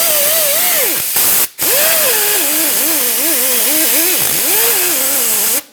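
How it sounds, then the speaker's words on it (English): A wire brush cleans the hub mating surface on a 2014-2018 Mazda 3 during a front brake rotor replacement. It makes a loud, continuous, hissing whir that rises and falls in pitch, with two brief gaps. "We want to make sure we clean the hub mating surface where the brand new brake rotor is going to sit. I'm just going to use a wire brush."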